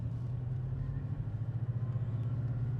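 A Porsche Cayman 718 mid-engined sports car produces a steady low engine drone with a pulsing, throbbing rhythm. It is heard from inside while driving, with no talk over it.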